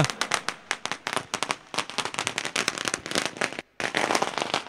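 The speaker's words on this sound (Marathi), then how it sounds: "फटाक्यांची आतषबाजी आपल्याला सांगते की सन्माननीय पाहुण्यांचं होत आहे या मंचावरती शुभ आगमन" Rapid strings of firecrackers burst at a cricket league event, dense sharp cracks popping in quick irregular succession with one short pause before the crackling resumes.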